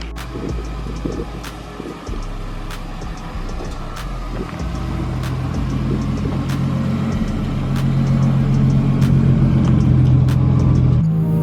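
A stroker BMW E36 engine running on a dyno indoors, building from a rough, lumpy idle into a long rising rev that grows steadily louder and deeper over about ten seconds, with regular ticking clicks throughout.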